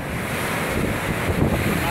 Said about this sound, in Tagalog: Grabe, lalaking alon masimula, sobra.